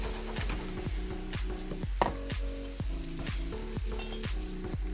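Cream sauce in a pan with boiling water from beet gnocchi: a steady close sizzle with rhythmic repeated stirring or scraping strokes, about two per second, no voices.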